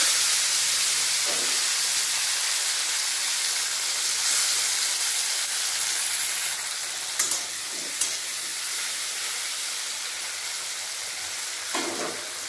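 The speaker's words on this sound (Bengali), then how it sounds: "এতে দেবো কেটে রাখা টমেটো" Chopped tomatoes hit a hot pan of oil for a tender drumstick and potato curry, giving a steady loud frying sizzle and hiss throughout, with a few brief stirring clatters and no talking.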